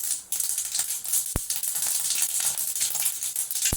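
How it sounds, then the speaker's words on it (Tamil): Mustard seeds and urad dal sizzling and popping in hot oil in a pan, a bright continuous crackle near the mic with a couple of sharp spitting pops. "எண்ணெய் காஞ்சிருச்சு இப்போ கடுகு உளுந்த பருப்பு போட்டுக்கலாம்"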